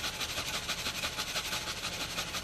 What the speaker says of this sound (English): We're starting to get a boil here.